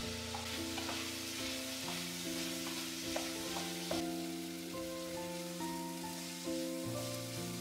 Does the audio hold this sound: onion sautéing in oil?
yes